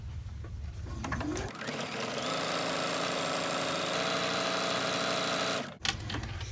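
A sewing machine runs steadily and loud, stitching a seam along the bottom of a fabric zipper pouch, with a brief stop near the end before the motor resumes, close by and without talking.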